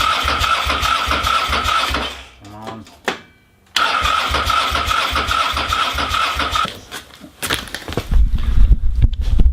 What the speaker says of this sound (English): So I'm going to do a test to see if the motorbike starts.